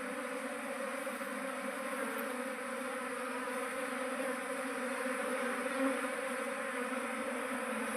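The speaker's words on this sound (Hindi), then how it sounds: "मेरे पे बहुत मधुमक्खियाँ है" A swarm of honeybees buzzes steadily and densely around a beekeeper catching the swarm, a continuous, close, many-layered drone with no pauses.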